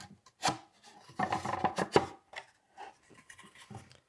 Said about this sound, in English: Now I can slip the back slats into the crest rail.